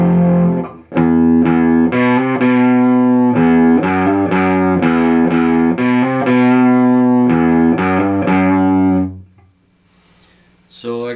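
Overdriven electric guitar through a Laney Supergroup 100 Mk.1 preamp clone pedal, chords strummed in a steady rhythm, thick and distorted, ringing out loudly before fading to near silence at the end.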